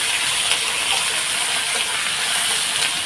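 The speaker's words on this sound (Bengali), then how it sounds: "দিয়ে দিলাম সব আলু দিয়ে দিয়েছি এবং আলুগুলো একটু লাল লাল করে ভেজে নেব" Potatoes frying in hot oil in a pan, a continuous dense sizzling hiss heard close and steady throughout, with no voices.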